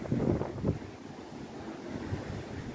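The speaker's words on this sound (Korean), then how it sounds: "며칠째 파도가 이렇게 심하게 칩니다" Strong waves break against a breakwater at a fishing spot, a rough, continuous roar of surf mixed with gusty wind buffeting the microphone.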